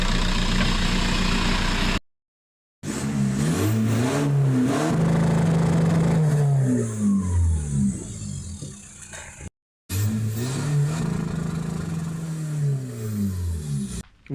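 A diesel performance car at a tuning and reprogramming workshop runs and revs hard, its loud engine rising and falling through repeated throttle blips close by.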